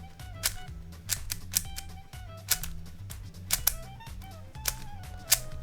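A Shadow V2M puzzle cube turned quickly through corner-cutting moves gives sharp plastic clicks and clacks in irregular bursts, close and fairly loud, with a faint musical bed underneath.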